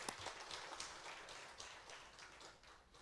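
A church congregation claps together during a Sunday afternoon worship service, a dense, steady wash of applause filling the whole clip at moderate level with no talk over it.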